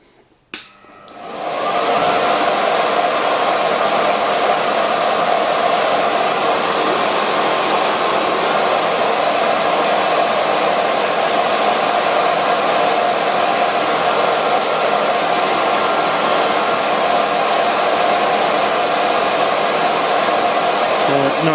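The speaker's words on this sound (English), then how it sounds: "Just about managing to turn, but in this test the blower is 5 feet away." Air blower running steadily five feet from a small horizontal-axis wind turbine during a venturi test, a loud continuous rushing roar that starts abruptly after a brief quiet moment and holds constant with no talking.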